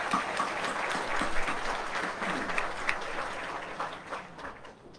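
A high school graduation audience applauds the superintendent and school board, a soft steady patter of many hands from a distance that thins and fades toward the end.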